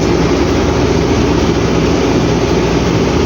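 An MTZ-82.1 tractor pulling a DAN 2.5 disc harrow while discing stubble gives a loud, steady low diesel drone. It runs unbroken from start to finish, close by, with no voices.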